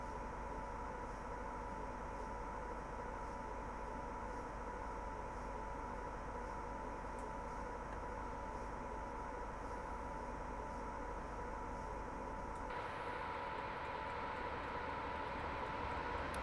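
A Class 87 electric train in Train Simulator creeps slowly into a station on the West Coast Main Line over Shap, a low steady rumble and hum that shifts in tone near the end, with no talking.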